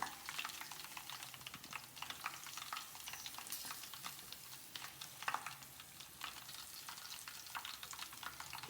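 Fish fries in a pan with a quiet, steady sizzle and crackle of hot oil, with faint stirring scrapes now and then and no voices.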